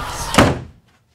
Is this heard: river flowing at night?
no